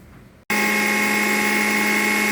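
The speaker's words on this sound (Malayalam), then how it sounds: "നാളികേരവും ചെറിയുള്ളിയും മുളക് ഇതെല്ലാം മിക്സിയിലൊന്ന് ചതച്ചെടുക്കാം കേട്ടോ" A mixer grinder crushes coconut, shallots and chili for a thoran: a brief quiet, then the motor kicks in with a loud, steady, high whirring grind that runs unbroken to the end.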